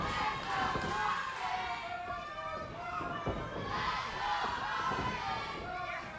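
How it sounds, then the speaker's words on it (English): Crowd at a 1CW pro wrestling match roars and cheers continuously, a dense, lively wash of shouting voices with a few sharp thuds from the ring mixed in. "Crowd evenly split here."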